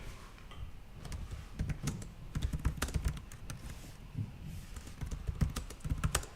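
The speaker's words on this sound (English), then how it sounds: "I always love typing right next to the mic" Rapid typing on a computer keyboard right beside the microphone, a close, loud clatter of key clicks in irregular bursts with brief pauses, and no voices.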